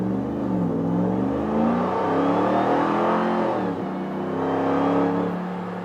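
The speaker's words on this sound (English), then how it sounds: "I can hear the supercharger whine and I can hear that exhaust." A RAM TRX pickup with a muffler delete, SLP resonators and a supercharger revs up, its deep exhaust drone rising and falling with a high supercharger whine over it, close and steady with no talking.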